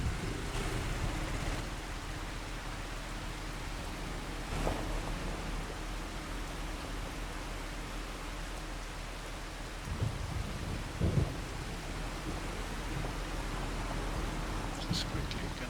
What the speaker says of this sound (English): definitely sounds like there's a storm coming.